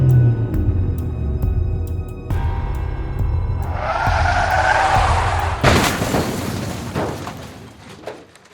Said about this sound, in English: she panicked and got into the car and stepped on the gas.